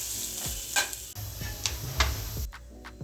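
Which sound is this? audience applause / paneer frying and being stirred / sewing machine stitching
paneer frying and being stirred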